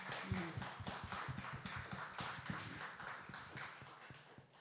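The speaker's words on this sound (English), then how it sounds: "let's give her a round of applause, everybody, please." An audience at a cultural event applauds, giving dense, steady clapping for several seconds that sits at moderate distance and fairly soft, with no talking over it.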